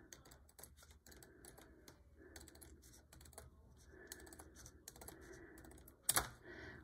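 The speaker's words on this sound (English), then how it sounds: "cut it all the way across and stay as close to the line as possible with your scissors" Scissors snip steadily across a sheet of plastic canvas for an alphabet-block craft, a close run of crisp clicking cuts repeated in short bursts, ending with one louder snap.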